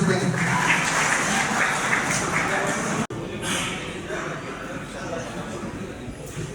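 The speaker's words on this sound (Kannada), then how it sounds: "ಎಲ್ಲರ ಚಪ್ಪಾಳೆ ಮುಖಾಂತರ ಸ್ವಾಗತವನ್ನು ಮಾಡಬೇಕೆಂದು ವಿನಂತಿಸುತ್ತೇನೆ" An audience at a commemorative gathering in Belagavi claps continuously to welcome guests, a dense, even applause that breaks off briefly midway and then resumes at a slightly lower level.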